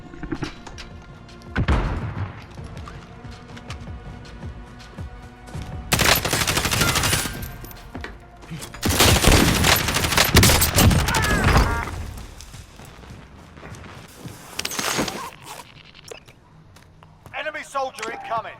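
Gunfire in Call of Duty: Modern Warfare crackles in dense bursts of automatic fire and thudding shots, loud and near, rising and falling over the clip while people talk throughout.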